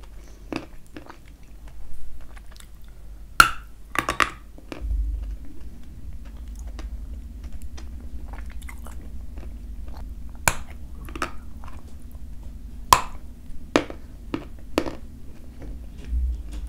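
Biting and chewing a thick, layered piece of Crimean food in close-miked ASMR style, with sharp isolated crunchy bites and softer mouth sounds spaced irregularly over a quiet background.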